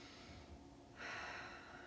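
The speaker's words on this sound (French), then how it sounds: "On prend une bonne inspiration." A deep inhalation during a guided meditation session, a soft airy breath swelling louder midway and held steady, close and alone with no talking.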